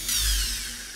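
Mining drill firing in the video game Space Legs, a single short whirring burst that swells quickly and then fades over about a second, alone with no talk.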